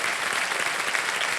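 Studio audience at the KBC Under 25 quiz show applauding, a dense, steady wash of clapping that holds throughout at even loudness.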